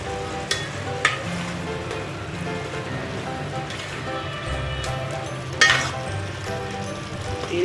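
Half a cup of oil poured onto keema with softened tomatoes and onions in a pan, a continuous sizzle with a few sharp spattering bursts and clinks, no talk.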